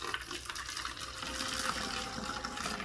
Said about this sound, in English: then we're gonna add our hot water